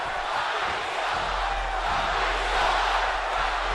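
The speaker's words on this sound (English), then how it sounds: "Is that a Rocky sucks chant from the crowd?" A wrestling arena crowd at a Ziggler versus The Rock match chants "Rocky sucks" in a loud, sustained roar with a rhythmic pulse running through it, and no commentary over it.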